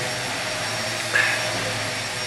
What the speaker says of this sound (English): just doing a bit of hoovering up